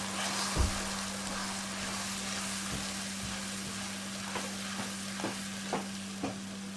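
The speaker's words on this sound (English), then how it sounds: "we put our tomato puree in here. Give it a good mix. And cook it a bit." Tomato puree for bhindi masala fries quietly in a pan, a soft steady sizzle broken by a few light clicks of stirring, fairly faint with no talking.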